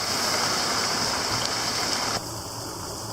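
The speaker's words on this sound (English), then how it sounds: "And I've got this sluicing out, so that's going to drain very quickly." Water drains out of a tank, a steady rushing gush at close range that drops noticeably in level partway through and keeps flowing, no voices.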